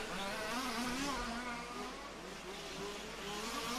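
Large-scale off-road RC car braking hard into a tiled hairpin turn during EFRA European championship qualifying, its high buzzing engine whine dipping and rising under continuous race commentary.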